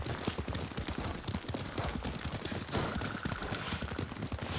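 Horse hooves beat a fast, steady rhythm while riding in Ghost of Tsushima, loud and close beneath a dense wash of wind and ambient noise that keeps up throughout.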